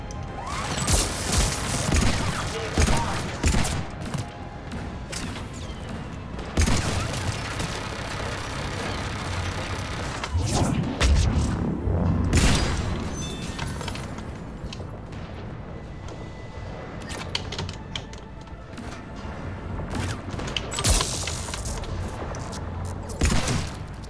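Cannons and heavy weapons fire in a Mass Effect 3 DLC game battle, producing dense, continuous booms and gunfire bursts with several louder blasts, steady throughout with little pause.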